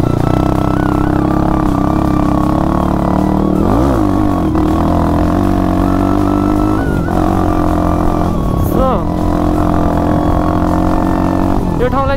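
A motorcycle engine drones steadily at close range while riding toward Tokha Jhor waterfall, with pitch shifting as the rider works the throttle and occasional rattling from the bike.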